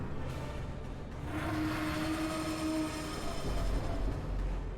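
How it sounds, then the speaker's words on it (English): A powerful, sustained honking blare from the Darkest Dungeon video game swells over a dense, rumbling background, loud and unbroken for several seconds. "Powerful honk, though."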